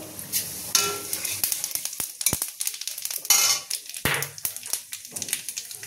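Panch phoron, the Bengali five-spice mix, hitting hot oil after torn dry red chillies, giving a crackling sizzle with scattered pops and scrapes of a utensil stirring in the pan.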